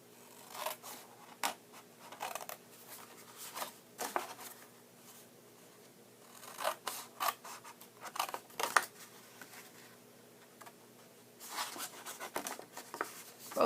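Scissors snip paper along score lines for a treat box in a series of short, crisp cuts with pauses between them, close and fairly quiet.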